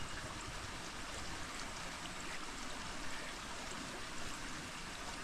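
Water runs steadily while freshly caught tilapia, catfish and snakehead from a rice paddy are washed, a faint continuous rushing and trickling with no voices.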